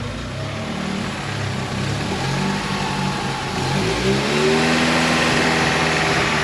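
A Honda Accord with a swapped H22 engine that struggles to hold idle revs up steadily and loudly close by, its pitch rising and falling before climbing higher toward the end.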